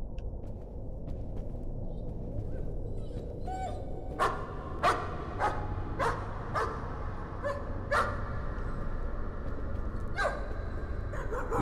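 In the horror video game Layers of Fear, a dog barks repeatedly at a steady, insistent pace over a low rumbling ambience, the barks sharp and moderately close, with no talk over them.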